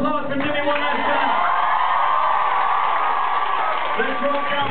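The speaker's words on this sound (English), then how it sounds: "let's give a round of applause for Jimmy one last time" A festival audience at Greenbelt 2009 roars with sustained cheering, whoops and applause for a departing guitarist, a dense continuous wall of crowd noise filling the whole stretch with shouts rising above it.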